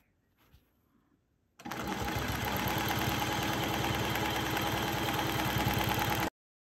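A sewing machine runs steadily for about five seconds while quilting a line on a sawtooth star quilt block, its close, loud motor and rapid needle chatter starting abruptly after a brief quiet lead-in and then cutting off.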